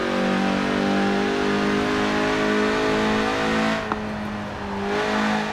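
Lotus Elise engine in Forza Horizon 4, a sustained droning hum at steady revs that eases briefly and then picks back up, heard alone.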